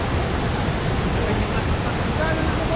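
Kaparkan Falls roars as a loud, steady broadband wash of falling water, close and unbroken throughout with no clear talk over it.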